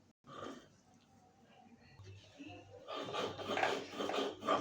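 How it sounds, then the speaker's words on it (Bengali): Chillies are ground by hand on a traditional grinding stone, heard as close rough scraping and rubbing strokes that start softly and grow into a louder, rhythmic rasping grind. "তো প্রথমে আমি মরিচগুলো বেটে নিলাম।"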